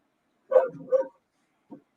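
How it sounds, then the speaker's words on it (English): A dog gives two quick barks close by, then a short pause and a single softer yip, heard alone against silence. "Dogs."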